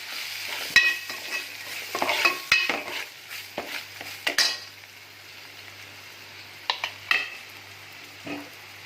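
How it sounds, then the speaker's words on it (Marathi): A spatula scrapes and clinks against a pan in irregular strokes while spices sizzle softly underneath; no voices. "मसाले मिक्स करून घेऊया"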